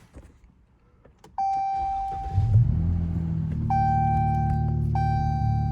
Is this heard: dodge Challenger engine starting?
yes